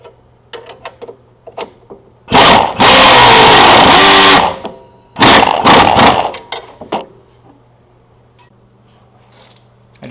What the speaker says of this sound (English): this is a little more difficult to tighten these bolts than I thought, so I'm just going to use my air tool